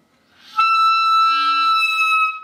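A sharp, piercing clarinet squeak bursts in after a breathy start, a shrill high tone held for about two seconds; the mouthpiece is pushed in too far.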